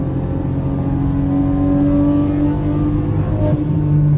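A modified old BMW engine, tuned to sound like a supercar, pulls hard in second gear with a loud, steady, close-up drone that climbs gradually throughout, with no talking.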